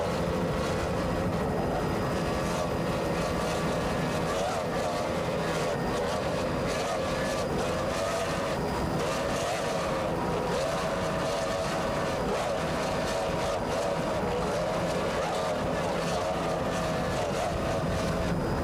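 Steady roar of powerful offshore racing powerboat engines at speed during a 1994 South Padre race, with wind buffeting the microphone and a constant droning hum throughout.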